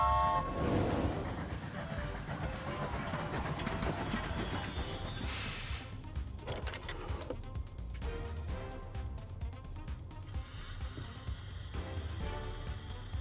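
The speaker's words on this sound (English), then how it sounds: "We are going to get run over by a train if it keeps going round the loop." A train in the video game Tinykin runs round a looped track, rumbling and hissing steadily with a brief bright burst of steam partway through, under a layer of game music.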